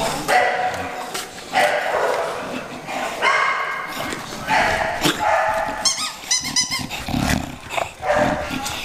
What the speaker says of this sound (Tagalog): ito yung isang aso ni Coach Babs na pang-stud din niya dito sa kennel niya